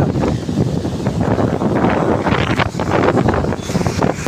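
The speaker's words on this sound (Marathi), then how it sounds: "पाऊस जोरात आलाय." Loud, steady roar of heavy rain mixed with strong wind buffeting the microphone, continuous throughout with no voices.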